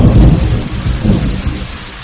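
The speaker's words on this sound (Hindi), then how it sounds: "एक दिन अचानक तेज बारिश शुरू हो जाती है" Heavy rain pours steadily with rumbling thunder rolling underneath, loud and close, a dense continuous storm wash with no voices.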